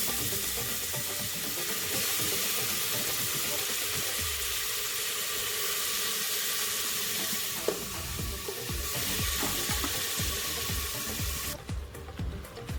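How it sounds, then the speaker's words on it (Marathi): Mixed vegetables (cauliflower, peas, potato, beet, tomato and carrot) cooking in butter and oil with cumin for pav bhaji: a steady loud sizzle and hiss throughout, with faint stirring scrapes and a brief clatter near the end. "बटर आणि तेलामध्ये जिरे फोडणी घालणार आहे आणि त्यात सगळ्या भाज्या घालून शिजवून घेणार आहे"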